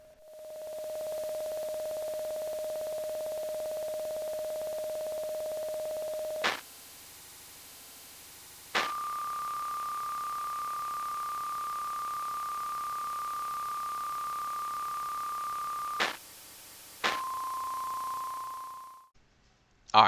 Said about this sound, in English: The music is essentially static dial-up sounds